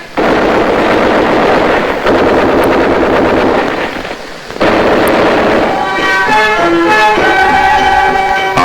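Heavy soldiers' gunfire and explosions rumble in a loud, continuous battle din with a brief lull midway, after which music-like tonal sounds rise over the chaos.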